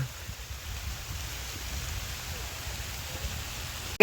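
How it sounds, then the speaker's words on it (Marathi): Heavy rain pours down in a steady, dense hiss in Dapoli, Ratnagiri, filling the whole clip, with no clear voices over it. "किती जोरात पाऊस आलाय"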